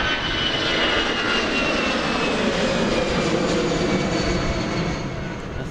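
An EasyJet passenger jet at Amsterdam Schiphol Airport produces a steady, loud, broadband engine roar that holds throughout with no talking.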